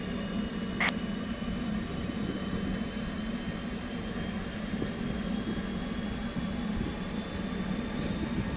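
An F/A-18C jet in DCS World idling after the left throttle is pulled back, a steady low engine rumble and hum holding even throughout, with a brief faint tone early on.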